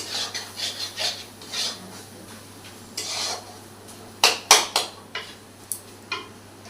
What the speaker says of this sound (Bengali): জিরে গুঁড়ো দেওয়া হলো এখন কষার কাজ চলছে